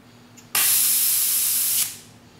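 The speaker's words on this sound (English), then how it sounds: "you can hear the gas noise" Green gas rushing out of a loosened airsoft pistol magazine, one loud, steady, close hiss lasting just over a second that starts abruptly and then tapers off.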